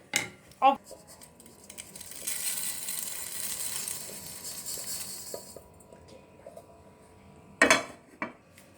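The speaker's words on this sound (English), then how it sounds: "I'm just gonna take it and put it in a bowl." Roasted vermicelli being moved from a pan into a bowl, with sharp metallic clinks of utensils against cookware at the start and end and a soft rustling scrape in between, close and moderately loud.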